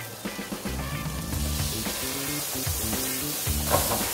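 Saffron and white wine hit a hot sizzling pan while linguine with scampi cooks, giving a steady close frying hiss with a faint tonal hum running underneath.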